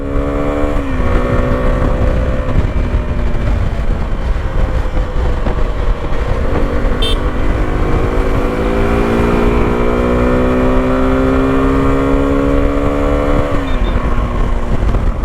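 Suzuki V-Strom 250 SX adventure motorcycle accelerating on a highway, engine pitch rising through repeated gear changes with brief dips between shifts, loud and continuous against steady wind noise, no voices.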